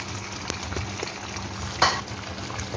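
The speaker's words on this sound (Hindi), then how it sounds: "अभी थोड़ा सा इसको भून लूँ 2 मिनट।" Chicken biryani ingredients with mint and lemon slices fry in a pot with a steady low sizzle, broken by a few soft stirring knocks and one brighter scrape near the end.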